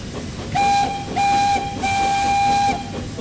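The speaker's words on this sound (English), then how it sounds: "Blow the whistle again." Steam train whistle in the Thomas and Friends: Wonders of Sodor video game, sounding three times in short blasts, the last one held longer, loud and clear over a faint game background.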